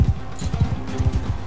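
Galloping horse hooves in the medieval combat game Mount & Blade II: Bannerlord, a rapid run of heavy, close thuds in steady rhythm that lasts throughout.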